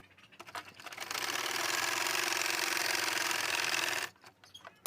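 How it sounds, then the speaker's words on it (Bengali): Sewing machine stitching the back pocket onto a pair of pants, a steady close whirring run of about three seconds with a brief start and stop on either side, no talk. "এবার এই পকেটটাকে এখান থেকে সেলাই করে দেব।"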